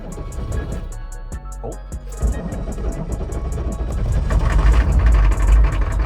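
A Hummer H1's 6.5-liter diesel engine rumbles as it starts, then settles into a loud, steady idle with a low clatter, close by, amid a repeating ticking chime.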